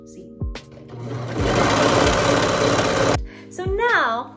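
Sewing machine stitching the crotch seam of homemade shorts, running as a loud, steady close-up whir for about two seconds after a few short starts, then stopping as a person speaks.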